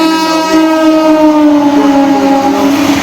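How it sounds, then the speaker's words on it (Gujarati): A train moving through Vadod railway station on the Vadodara route, its horn sounding a long, loud, steady blast with sustained tones held for the whole stretch, close by and clear. "ટ્રેન જવાના દ્રશ્યો, તેનો વિડીયો"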